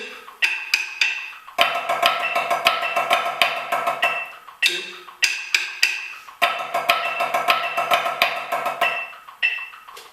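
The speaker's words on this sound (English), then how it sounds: "let's go ahead and play the accent pattern of measure 1 with the flams on." A snare drum plays a fast, steady stream of strokes with periodic louder accented hits and grace-note flams, pausing briefly between phrases.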